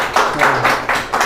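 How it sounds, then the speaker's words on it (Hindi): Children clap using the backs of their hands in a classroom, producing about five soft, evenly spaced claps in quick succession. "बच्चों बजाओ ताली"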